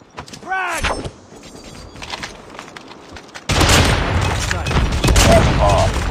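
A frag grenade goes off in the mobile shooter Call of Duty Mobile during a search-and-destroy match, a sudden loud blast partway through followed by sustained booming gunfire noise, with in-game voice callouts before it.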